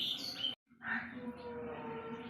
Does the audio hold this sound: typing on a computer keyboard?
no